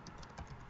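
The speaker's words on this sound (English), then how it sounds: "boy, I'm having trouble typing here." Soft, quick keyboard typing, a handful of light key clicks tapping in an irregular rhythm, faint and close.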